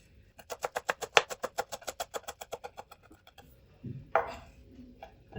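A knife chops green chilies and fresh coriander on a board in a home kitchen, a fast steady run of about twenty close, crisp strokes, then a few scattered thuds and scrapes.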